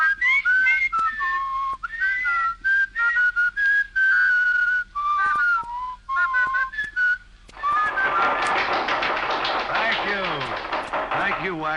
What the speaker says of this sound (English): I can whistle 2 tunes at once.